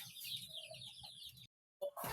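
Chickens cluck and chirp at close range in soft, low-level bursts, broken by a short silent gap before the clucking starts again.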